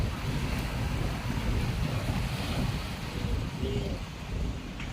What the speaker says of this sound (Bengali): কি সুন্দর শীতল বাতাস এই সমুদ্রের পানি থেকে আসে